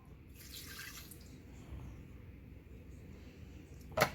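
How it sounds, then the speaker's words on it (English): A quarter cup of water or vegetable broth poured into a Deluxe Cooking Blender makes a soft, brief splash and trickle under faint room noise, ending in a short sharp knock. "add a 1/4 cup of water or vegetable broth"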